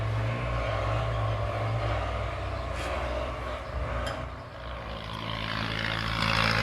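Ford 6610 tractor ploughing a field, its engine a steady low drone close by, with a faint rattle and a few brief clicks over the rumble.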